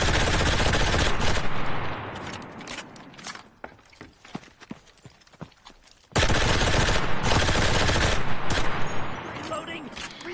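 In Enlisted, squad guns fire in long, loud, rapid bursts. A sparse stretch of single shots and footsteps sits in the middle, and then heavy sustained gunfire resumes.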